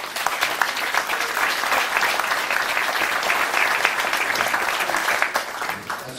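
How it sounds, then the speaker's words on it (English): A crowd at an organised weekend event claps loudly and continuously for the man who put it together, a thick, unbroken wash of applause with no speech over it. "That's enough applause for him."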